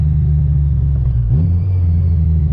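Supercharged widebody Honda S2000 driving, a steady loud low engine drone with a brief rise in pitch partway through as the car accelerates, heard close from inside.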